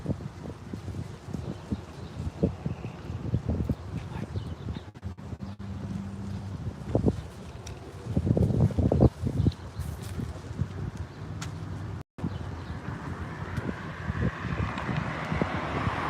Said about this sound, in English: wind's picking up a little bit.